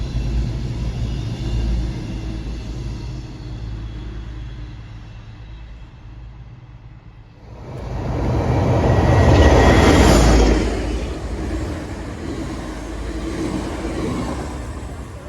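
A Class 221 Avanti train on the West Coast line, bound for London Euston, passes with a heavy rolling rumble that swells to a loud peak midway and then eases back to a steady roar, without speech.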